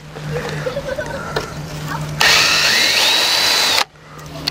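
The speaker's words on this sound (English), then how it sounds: "Just drill these out." Power drill boring out old rivets on homemade wheel covers, a loud steady whine with a rising pitch sweep that starts abruptly partway in and cuts off sharply near the end, preceded by quieter handling noise.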